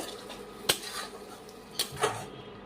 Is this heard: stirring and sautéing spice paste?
yes